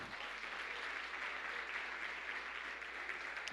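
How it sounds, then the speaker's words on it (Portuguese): A church congregation applauds the Lord during a Portuguese-language sermon, producing dense, continuous clapping that fills the room at an even level from start to finish without letting up. "Você pode aplaudir ao Senhor"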